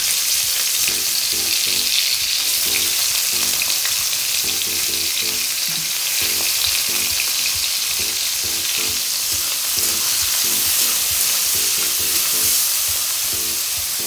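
Chopped onion, garlic and green chilli fry in a pan for Bengali kochur loti, a steady loud sizzle with repeated stirring scrapes throughout, no voices.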